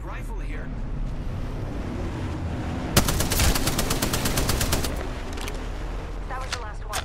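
Havoc rifle gunfire in a video game rattles out as a rapid, steady burst of evenly spaced shots lasting about two seconds, loud over a constant windy, rushing game ambience.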